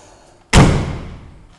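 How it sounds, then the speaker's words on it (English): The door of a 1967 Ford F-100 pickup truck shuts once with a solid, heavy thud close by, then a short ringing decay. "Love the way those doors close"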